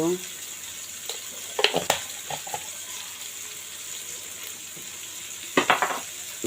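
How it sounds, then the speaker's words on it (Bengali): Cumin seeds sizzle steadily in hot oil, a constant crackling hiss broken by a few sharp clinks of a spoon against the pan. "জিরাটা জ্বালানি দিলাম।"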